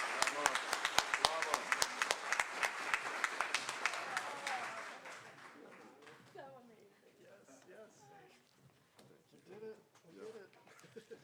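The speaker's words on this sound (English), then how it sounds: "let's all applause now" An audience at an awards ceremony claps steadily, then the applause fades out as murmuring voices and scattered talk take over.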